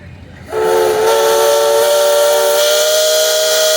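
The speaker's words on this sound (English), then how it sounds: "Mr. Somerville, you got a whistle" A steam traction engine at a parade lets out a loud, steady whistle that starts abruptly after a moment of quiet and holds continuously with a hissing edge, close by.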